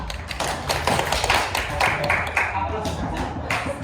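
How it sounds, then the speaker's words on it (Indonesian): Classroom applause for a student: a quick patter of hands clapping for a few seconds, close and lively, with some voices mixed in. "Kita beri aplaus untuk Nova"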